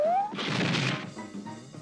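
A cartoon character bursting through a wall in a Tom and Jerry cartoon, a loud crashing smash after a rising whistle, followed by a shorter rattling tumble of debris.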